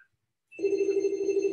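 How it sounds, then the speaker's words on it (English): Telephone bell ringing steadily after a short silence, a continuous trilling ring heard up close and alone. "the phone's gonna ring."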